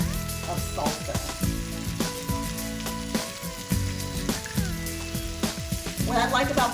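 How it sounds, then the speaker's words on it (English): Salsa, a third of a cup, sizzling and frying in a hot pan while making keto stuffed Mexican peppers; a steady close crackling hiss runs throughout with occasional stirring clatter. "So now I'm going to start with a 1/3 cup of salsa."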